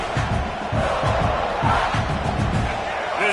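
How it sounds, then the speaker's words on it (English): A college football stadium crowd swells in a video game broadcast before a game-winning kick, a dense roar rising in waves with rhythmic chanting pulses underneath. "This crowd rising up"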